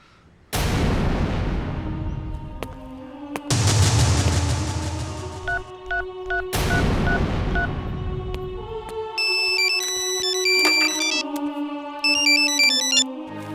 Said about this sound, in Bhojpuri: मुन्ना, एक तरीका बा, तू सीधे कमिश्नर के फोन लगावा।